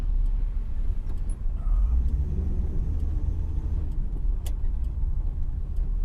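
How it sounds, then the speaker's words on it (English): A big truck rumbles past with a heavy, steady low roar that stays loud and close throughout, and no talk is heard. "big truck"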